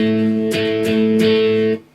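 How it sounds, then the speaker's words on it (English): An electric guitar plays muted octaves from a song, a sustained distorted chord broken by three quick percussive strum accents before the sound is cut off. "So the strumming pattern is going to sound like this."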